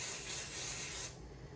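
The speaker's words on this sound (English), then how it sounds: "I'm gonna use my basting spray and bond" Basting spray adhesive hisses from an aerosol can in a close, steady burst that stops abruptly about two-thirds through, leaving quiet room tone.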